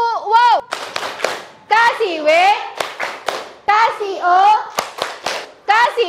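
A class of fifth-grade schoolchildren chants a rhythmic 'tepuk wow' clapping routine, bursts of loud young voices mixed with sharp hand claps, close and energetic, with short pauses between phrases.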